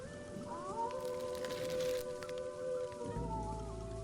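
Cartoon rain falling on a night in the jungle, a steady hiss under drawn-out, howling tones that rise and bend before a deep low rumble takes over near the end.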